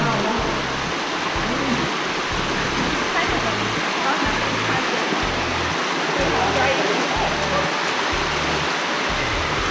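Stream water at Turkey Run State Park rushes and gurgles around wading boots, a loud, close, unbroken wash of flowing water.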